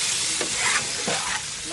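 Small diced new potatoes tipped into a hot frying pan, hissing loudly with oil, and stirred, with a couple of scraping strokes over the steady sizzle.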